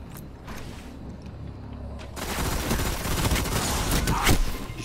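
Gunfire in Destiny: a quieter stretch with a few scattered shots gives way to a loud, dense rattle of rapid fire and booming impacts in the second half.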